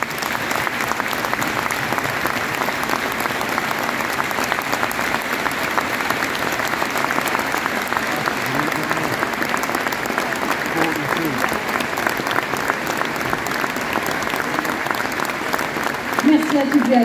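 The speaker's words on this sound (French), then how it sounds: "Merci d'observer un moment d'applaudissement pour célébrer ce grand homme du rugby" Sustained applause from a stadium crowd at an under-20 Six Nations rugby match in Oyonnax, France versus Wales, marking a tribute, dense, even clapping held for the whole stretch.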